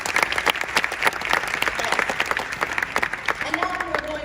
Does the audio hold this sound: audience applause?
yes